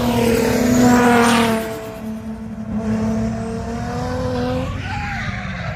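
Drift cars at Castle Combe, a Monster Energy PS13 chasing a rival, with loud engine drone and tyre squeal that swells in the first seconds, then steady high revving continuing close by.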